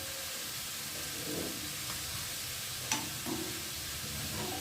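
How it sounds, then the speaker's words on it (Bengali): Rice boils in a pot with a quiet, steady hiss of steam and bubbling, plus a few soft clinks and faint scrapes. "ভাতটা ফুটছে, ভাতের মধ্যে একটা গেজা ওঠেছে"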